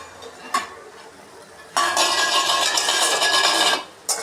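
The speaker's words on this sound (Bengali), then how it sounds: "এখন আমি ঢাকাটা উঠিয়ে দেখব।" A metal lid comes off a pot of greens and country chicken cooking village style: a few faint clicks, then a sudden burst of loud hissing steam and bubbling that runs about two seconds before cutting off, followed by a brief clank.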